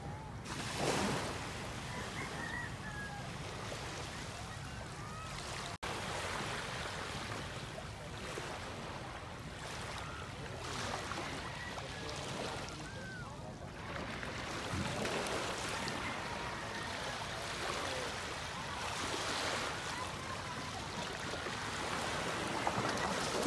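Ocean waves wash and surge in a broad, continuous roar mixed with wind, rising and falling in slow swells with no talk.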